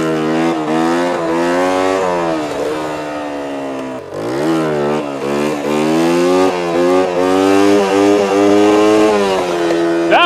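A motorcycle engine revs hard during wheelie practice, loud and close, cycling through rising and falling throttle sweeps with one sharp drop and recovery midway.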